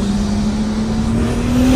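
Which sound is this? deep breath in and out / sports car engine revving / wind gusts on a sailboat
sports car engine revving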